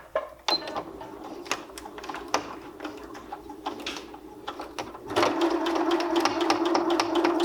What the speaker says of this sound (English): I'm going to pull my sewing machine over and I am going to quilt along all of my markings.